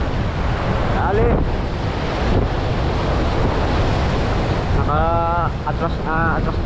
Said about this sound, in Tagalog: Atras tayo mga master. Malalaki kasi yung alon.